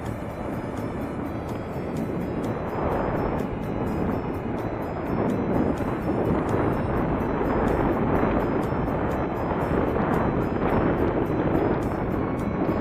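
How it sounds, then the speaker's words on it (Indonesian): Strong gusty wind roars and buffets a microphone outdoors, a loud, unbroken rush with rising and falling surges. "Ini anginnya kencang sekali"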